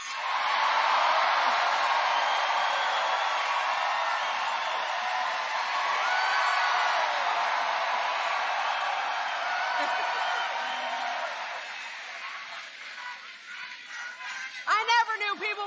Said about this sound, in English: I never knew people would cheer so loud for roads.